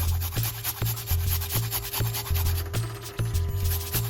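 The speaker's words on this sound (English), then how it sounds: "we're gonna grate a piece of this piece of ginger right here" Ginger root rubbed against a grater in a kitchen, giving a steady run of rasping strokes roughly every half second, close and moderately loud with no talking.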